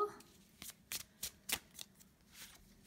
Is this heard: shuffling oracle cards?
yes